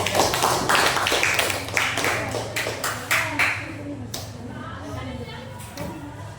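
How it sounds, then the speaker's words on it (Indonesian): Scattered handclaps from a classroom group honoring the first student team, a few sharp taps over a steady background murmur and low hum, fading after a few seconds. "tepuk tangan untuk kelompok 1"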